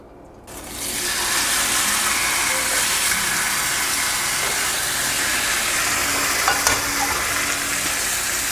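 Marinated steak sears in a hot frying pan, a loud, steady broadband sizzle that starts abruptly after a brief quiet moment and holds constant, with a few faint clicks near the end.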